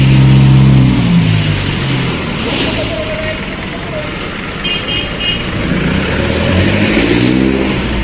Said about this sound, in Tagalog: Kaya sinakay na po yung motorsiklo.